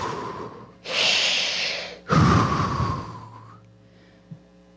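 A person imitating snoring, a loud, close Darth Vader-like breathing sound: two long rasping breaths, the second starting with a sharp snort, then a brief quiet sniff at the end, with no talking.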